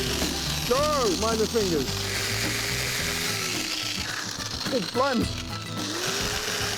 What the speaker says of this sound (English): once you get a drill in your hand, you're absolutely insane